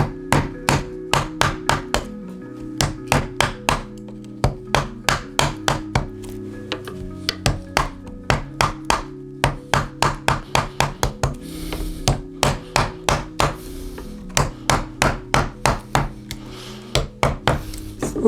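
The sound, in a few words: chisel cutting wood while making a nyckelharpa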